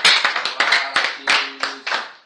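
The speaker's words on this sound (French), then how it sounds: "Donnez une acclamation au Seigneur Jésus." A small church congregation claps in praise during a prayer service, heard as distinct, close hand claps in an uneven rhythm, a dozen or so sharp strikes with slight pauses between them.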